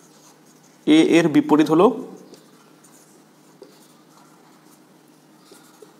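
Pen or chalk writing out a math solution, a soft scratchy patter of strokes running through the clip, with a brief burst of someone talking early on.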